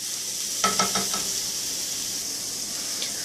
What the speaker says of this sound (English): the eggplant is browning, and the onions and garlic are sauteing along with the banana peppers